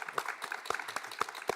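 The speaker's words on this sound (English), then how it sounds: "A big round of applause from our lovely audience." A small audience at the Royal Opera House claps briefly and faintly, scattered individual hand claps rather than a full roar, at some distance.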